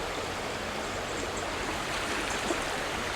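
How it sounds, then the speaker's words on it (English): Water rushes steadily through a trout stream, forming a dense, even, close-by wash of flowing water with no break. "Here we've got the water just flowing"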